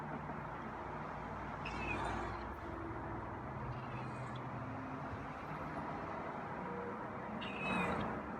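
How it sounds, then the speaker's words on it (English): A feral cat gives a few short meows, scattered and at middling distance, against a constant low rumble of passing traffic. "Now I'm getting the meows."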